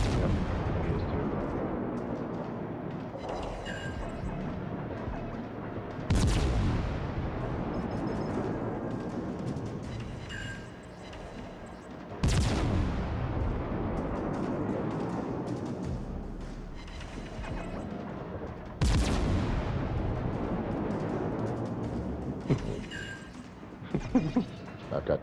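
Heavy naval gunfire from the World of Warships: Legends game with the cruiser Des Moines, loud booming salvos roughly every six seconds, each decaying into rumble under continuous game noise.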